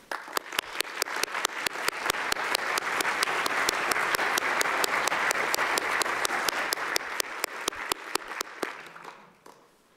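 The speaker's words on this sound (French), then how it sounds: "Je vous invite d'ailleurs à les applaudir avec moi." An academic audience at a university opening ceremony applauds musicians, steady dense clapping filling the room for about nine seconds before tapering off at the end.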